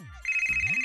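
A phone starts ringing after a short low tone, giving a loud, steady electronic ring pulsing in a quick regular rhythm.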